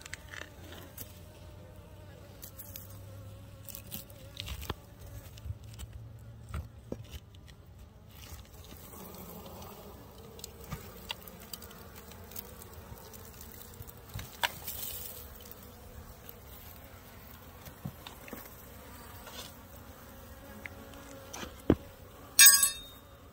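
Honey bees buzz inside a water meter box during a live bee removal in Southern California, a faint continuous low hum heard up close, broken by scattered clicks and knocks and a few louder clanks near the end.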